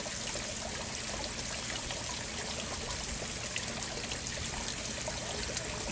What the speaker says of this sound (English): this is our new little waterfall addition here